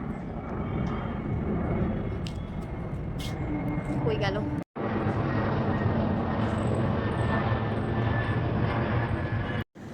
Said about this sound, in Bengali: এবার প্লেন দেখাচ্ছি।